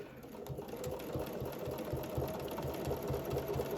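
Domestic sewing machine quilting a large quilt along a ruler, its motor humming with a quick rhythmic needle chatter, steady and moderately quiet throughout.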